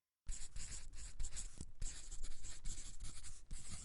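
Pen writing on paper while working an equation, a close, steady scratching with short strokes and brief pauses, alone without talk.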